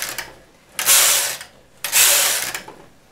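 A flatbed knitting machine knits plain rows, its carriage sliding across the needle bed in two loud, rasping mechanical passes about a second apart, with quieter clicks between them.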